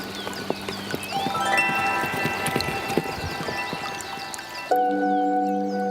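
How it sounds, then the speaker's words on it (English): Hooves clop in a quick rhythm as horses pass by, mixed with a whinny, under layered bright tones and chimes that change near the end. "you hear the sound of horses galloping by"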